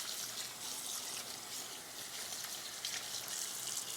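Tap water runs through a halved bell pepper in a kitchen, making a soft, steady hissing splash heard alone.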